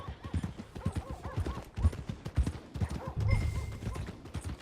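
Horse hooves clip-clop on the ground in the video game Red Dead Redemption 2, a steady close rhythm of hoofbeats with a brief snort or whinny mixed in.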